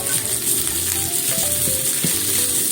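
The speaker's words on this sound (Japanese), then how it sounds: "ちょっと炒めますね。" Vegetables stir-frying in a pan for meatless yaki udon give a steady, close sizzle with scattered clicks and scrapes throughout.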